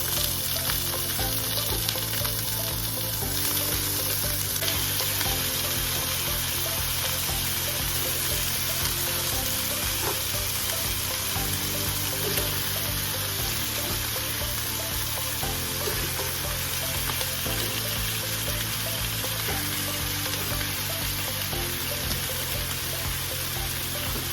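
Lamb shoulder pieces frying in a pan with ginger and garlic, a loud, steady, close sizzle that holds unbroken throughout, with no talking.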